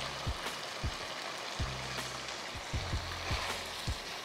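Onions and jalapeno sizzle in a skillet with chorizo fat, a soft steady crackle broken by scattered sharper pops and stirring taps.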